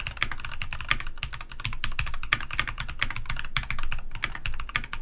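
Rapid typing on a mechanical keyboard, a continuous stream of crisp clicking keystrokes heard up close with no voices.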